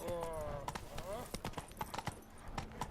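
Hooves of the horse Roach in The Witcher 3 clatter irregularly up stone stairs, a close, uneven series of clip-clops, with a brief whinny near the start and background game sounds.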